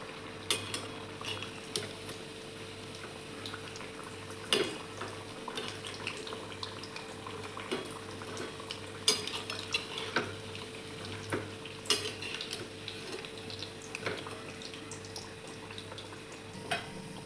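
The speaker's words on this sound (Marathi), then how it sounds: "दुसरी साईड पण व्यवस्थित तळून घ्यायची." Potato vadi shallow-frying in a pan, a steady soft sizzle running throughout with scattered scrapes and clinks of a utensil against the pan, close and fairly quiet, no talking.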